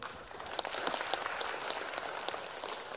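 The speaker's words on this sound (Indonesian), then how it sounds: "tepuk tangan dulu untuk Gojek ya" An audience at a DevOpsDays Jakarta 2020 conference session gives brief, moderately loud applause for Gojek, a dense patter of clapping across a hall.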